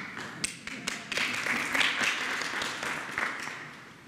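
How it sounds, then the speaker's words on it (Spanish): Applause at a Mexican presidential press conference, a short burst of scattered hand clapping from a small group, moderate and steady for several seconds with a few louder individual claps. "Aplauso."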